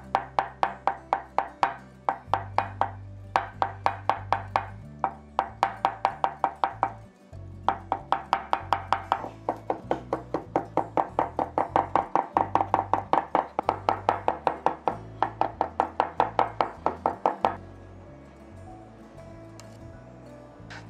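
A knife finely chops boiled egg white on a board in fast, even, repeated taps, close and crisp, with a short pause partway through and background music throughout.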